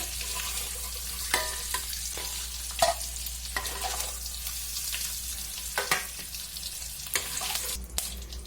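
Boiled eggs fry gently in a pan over a low flame. A soft, continuous sizzle runs under occasional sharp scrapes and taps of stirring, close by and moderate in level, with no talking.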